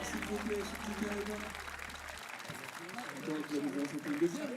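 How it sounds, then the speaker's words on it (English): An audience applauds during a live event: scattered clapping sits under overlapping voices, with a steady low hum in the first half that then cuts out. "On peut les applaudir bien fort"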